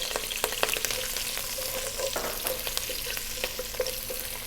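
Celery, thyme and garlic frying in a pot as the base for lamb bone broth, a steady close sizzle with small crackles and occasional stirring clatter.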